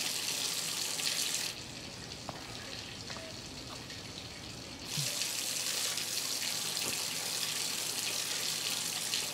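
Shower water runs in a steady hiss, louder at the start and again after a dip in the middle, with faint knocks and a brief voice in the background.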